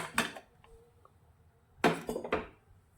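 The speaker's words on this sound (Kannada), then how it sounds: "ಕುಕ್ಕರ್ ತಣ್ಣಗಾಗಿದೆ, ತೆಗಿಯೋಣ." Steel pressure cooker being opened after cooking fenugreek pulao in a home kitchen: a few faint, close metallic clinks and clanks of the lid and utensils, separated by quiet pauses.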